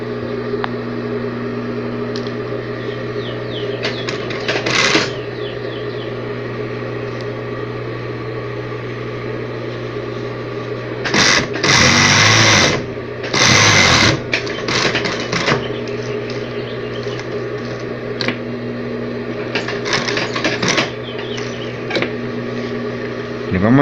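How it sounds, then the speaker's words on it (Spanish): Two-needle flatbed sewing machine running in bursts in a workshop, a loud steady mechanical whir that swells briefly around the middle, with a constant hum between runs. "Esta máquina ahorita está cosiendo bien y les vamos a mostrar cómo está cosiendo."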